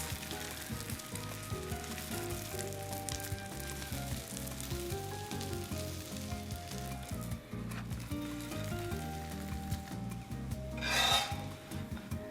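French toast frying in butter in a pan gives a constant crackling sizzle with occasional scraping, under quiet background music and without talk.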